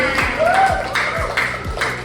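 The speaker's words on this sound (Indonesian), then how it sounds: "Tepuk tangan." Students of class 7C clap in a steady rhythm, about four or five evenly spaced beats, with a rising voice-like tone and classroom murmur underneath.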